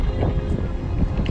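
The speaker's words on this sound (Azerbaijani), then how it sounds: "Çox dəhşət külək var." Strong wind buffeting the microphone near the Golden Gate Bridge in San Francisco, a continuous loud low rumble with gusty fluctuations throughout.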